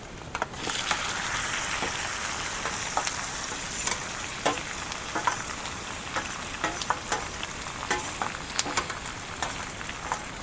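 Marinated chicken leg pieces fry in hot oil, a bright, steady sizzle with crackles and pops scattered throughout, close and alone without talk.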